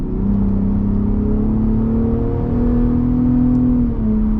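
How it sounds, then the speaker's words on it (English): Lifted 2022-2023 Ford F-150 Raptor with a turbocharged engine accelerating hard, a loud, steady, close engine drone that climbs gradually in pitch, heard from inside the cab with no talking. "Love to hear those turbos."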